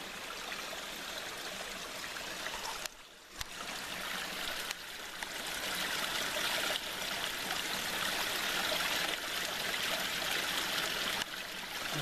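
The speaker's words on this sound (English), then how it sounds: "Some sort of hidden waterfall following the path." A hidden waterfall stream beside a coastal path in Cornwall rushes and trickles in a steady, close wash of water, briefly dipping as if the recorder is shielded.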